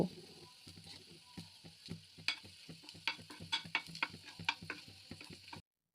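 Dried red chillies and garlic cloves frying in hot oil for a mustard greens dish, giving a steady close sizzle broken by frequent sharp crackles and pops and a few stirring clatters, with no voices.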